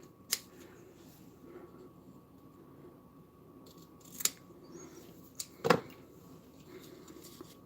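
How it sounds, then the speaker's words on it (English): Scissors snipping ribbon while making a bow, a few sharp isolated cuts spaced apart in a quiet room, close and crisp. "even if you want to cut more of this one off"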